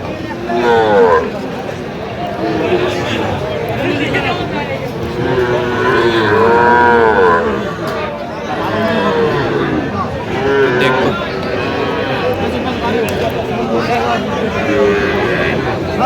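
Cattle, small bulls and heifers at a Sirajganj livestock market, moo repeatedly amid a crowd; people talk throughout over the near, steady lowing.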